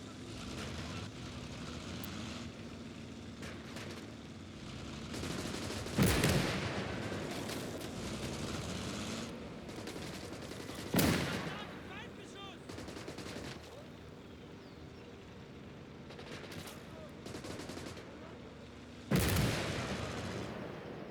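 Battlefield gunfire in the WWII strategy game Call to Arms: Gates of Hell, with a continuous rumble of engines and combat beneath three sharp, loud blasts spaced several seconds apart and scattered lighter shots, while a player talks intermittently.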